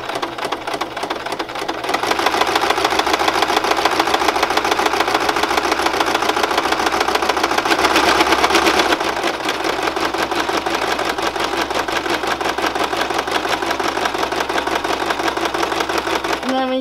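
A sewing machine stitching a handmade notebook, a loud, rapid mechanical rattle that starts after a moment and runs steadily, changing pitch slightly partway through as the stitching continues.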